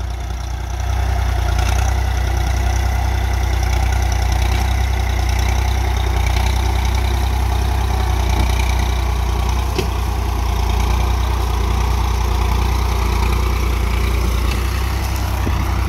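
A 939 FE tractor strains under load while pulling a heavy cultivator through a field, its engine giving a loud, steady, low droning rumble close by, with no voices.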